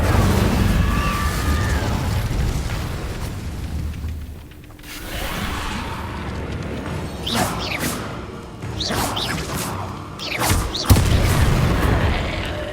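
Incendio fire spell cast in Hogwarts Legacy, heard as whooshing flame bursts and booming impacts amid other spell effects, several sharp hits in the latter half over a rumbling game backdrop, no talk.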